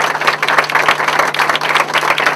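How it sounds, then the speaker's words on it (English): Rally supporters applauding at a campaign office opening, dense continuous clapping filling the room at close range with no pauses, under a faint steady hum. "So give yourselves a big round of applause."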